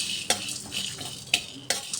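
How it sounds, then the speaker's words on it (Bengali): Dried chili, coriander and fennel dry-roasting in a hot wok, a soft rustling scrape of stirring with three sharp metallic clinks of a spatula against the pan, close and short. "এবার এটা অল্প একটু ভেজে নেব।"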